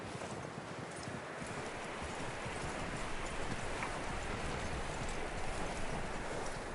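Steady clip-clop of horse hooves at a walking pace in Red Dead Redemption 2, fairly faint beneath a wash of outdoor ambient noise.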